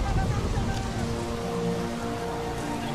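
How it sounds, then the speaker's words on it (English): Steady rain patters down in Tempest: Pirate RPG, a soft continuous hiss of drops with faint low rumbles beneath. "it's raining!"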